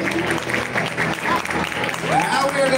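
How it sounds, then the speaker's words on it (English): An audience applauds at a live Chanukah gathering, steady dense clapping filling the room with a voice speaking over it. "Round of applause for Melbourne, Australia."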